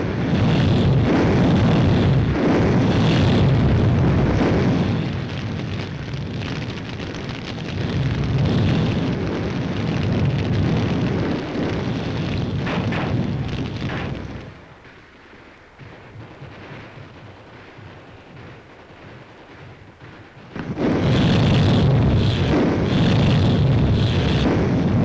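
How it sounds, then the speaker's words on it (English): A WWII battle film scene of the 1944 Marianas fighting, with enemy fire from caves and pillboxes: loud, rolling explosions and booming bursts that fade briefly to a quiet lull before another heavy blast erupts. "Heavy enemy fire is coming from those caves."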